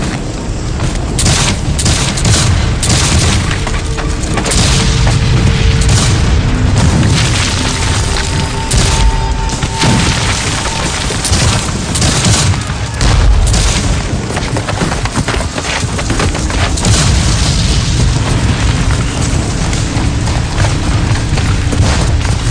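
Dense, loud battle gunfire and heavy cannon booms from a Gettysburg Civil War film scene, continuous volleys and blasts layered over each other with no let-up throughout.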